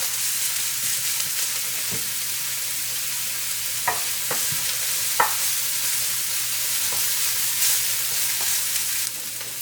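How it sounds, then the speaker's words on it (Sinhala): Onions sautéing in a pan for kale mallum give a steady close sizzle and hiss, with a few sharp utensil scrapes and clicks breaking through as they are stirred. "දාලා අපි දාමු අපේ ලුණු ටික. ටිකක් සොටේ කරගමු."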